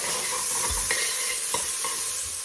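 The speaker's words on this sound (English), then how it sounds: "once your pan has cooled off a bit, you can add a little bit of oil, and then I like to add my onions" Onions frying in oil in a hot pan give a steady, close sizzle, with occasional stirring scrapes and soft thuds breaking through the constant hiss.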